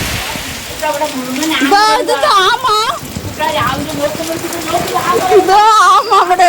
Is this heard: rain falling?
yes